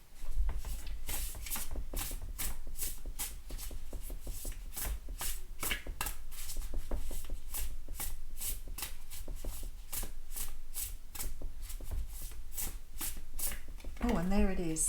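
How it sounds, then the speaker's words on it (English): Oracle cards shuffled by hand in a tarot-style reading, a long run of rapid, crisp riffling flicks in steady rhythm, close and clear, with a voice speaking underneath throughout. "let's pull you an oracle card"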